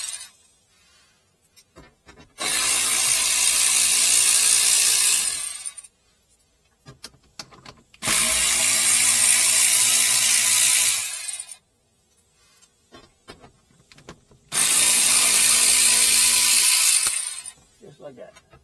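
A power ratchet works 10 mm bolts on a Toyota RAV4 Prime, in three loud, sustained bursts of several seconds each, separated by quiet pauses.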